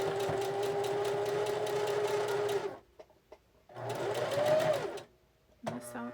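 A sewing machine stitches a quilt block in two sustained whirring runs with a steady buzzing hum, stopping briefly between them, then starting a short third burst, close by.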